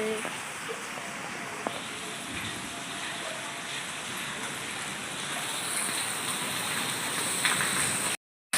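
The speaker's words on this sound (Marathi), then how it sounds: "बाहेर पाऊस वगैरे चालू झालेला आहे" Steady, dense rain hisses without a break, a constant wash of falling water that swells slightly near the end.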